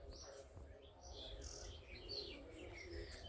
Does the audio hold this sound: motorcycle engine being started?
no